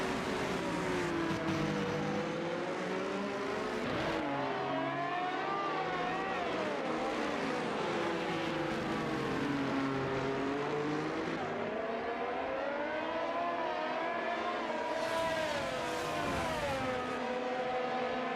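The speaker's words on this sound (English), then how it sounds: "the sounds of an F1 car going around the track" A Formula One car's high-pitched engine screams around the track in an F1 racing game at the Austin Grand Prix, its whine rising and falling with gear shifts as it passes, loud and continuous.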